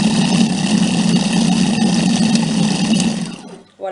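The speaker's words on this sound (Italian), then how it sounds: "Allora gli diamo proprio una frullatina per amalgamare, ma pochi secondi, possiamo farlo direttamente col tasto turbo." A Cuisine Companion food processor on turbo speed whirs steadily as it blends strawberry gelato, a loud continuous motor drone lasting a few seconds before cutting off abruptly near the end.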